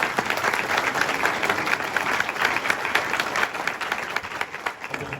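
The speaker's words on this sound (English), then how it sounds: "a little round of applause for Joel Schumacher" A panel audience at a Lost Boys event applauds director Joel Schumacher, dense steady clapping from a large crowd filling the room at full volume, sustained without a break.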